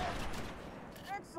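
Gunfire from the Halo 3 ODST video game crackles in a dense, continuous burst, with a short whining tone from the game near the end. No one speaks during the shots.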